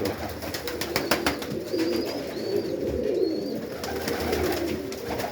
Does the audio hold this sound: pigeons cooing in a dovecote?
yes